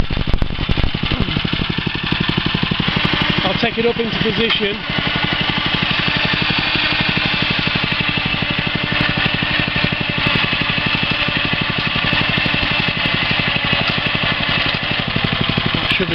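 The engine of a deep well drilling rig idles at tick over after the drilling head has stopped, a loud, steady, close drone that runs unbroken while someone talks over it.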